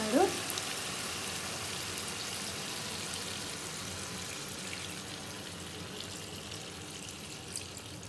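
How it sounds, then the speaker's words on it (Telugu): Water pours into chicken curry frying in a pan, so a loud hissing sizzle opens and then settles into a steady bubbling rush that carries on throughout. "ఇప్పుడు ఈ వాటర్ అనేది అందులో పోస్తున్నాడు."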